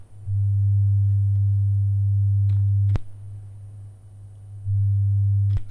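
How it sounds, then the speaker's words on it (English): Reverse-style sine tone from a Pluck'n'Duck synth module: a loud, steady low tone that holds for about three seconds, breaks off with a click, dips quieter and wavers, then swells back to full level. "the smoothness works in this mode as well, and it gives you this nice kind of reverse sound effect"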